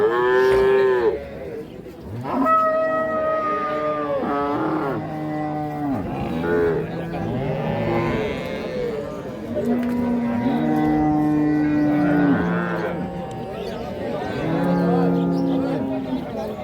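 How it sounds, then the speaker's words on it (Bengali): Holstein Friesian cattle at a village cattle market (haat) moo repeatedly in long, loud, close calls, several overlapping over a steady murmur of market crowd noise. "এখানে একটা 6 দাঁতের গাভী দেখছি, সাথে একটা ষাঁড় বাচ্চা।"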